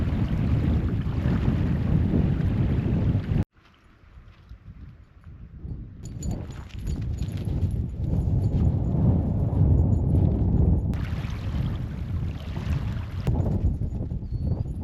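Strong wind buffets the microphone at a van campsite in Idaho in a steady, heavy roar, dropping out briefly before gusting back up and continuing throughout.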